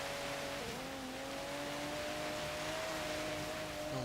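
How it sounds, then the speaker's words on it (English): A 2015 Volvo V60 Polestar engine in Forza Horizon 3 holds a steady, sustained drone with a smooth rising pitch as it pulls up Blizzard Peak, loud, close and continuous throughout. "Engine does sound good though."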